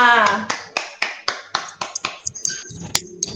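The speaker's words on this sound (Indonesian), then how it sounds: "Tepuk tangan buat kita semua." Group hand clapping in a classroom-style session, a rhythmic series of sharp, separate claps at a steady beat, starting over a tonal sound that fades and later becoming a looser pattern of taps.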